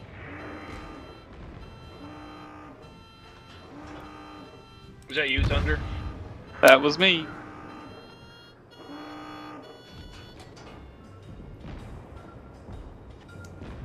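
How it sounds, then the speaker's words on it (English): A collision alarm in the naval video game World of Warships repeats as evenly spaced electronic beeps, each a short tonal pulse. Louder bursts of game noise break in midway, and people talk briefly over it. "I have collision alarms. I'm aware of this fact."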